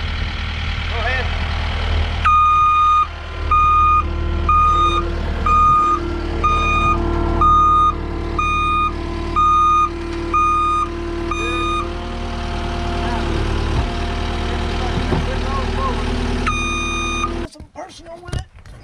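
A skid steer backs up onto a dump trailer at a concrete sidewalk and footing removal job, its reversing alarm beeping in a steady repeated pattern for about ten seconds over a loud idling diesel rumble, with a second run of beeps near the end.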